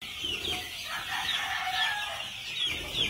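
Gamefowl roosters at a game farm crow and cluck close by, with one crow following another and some faint wing flapping, and no talking.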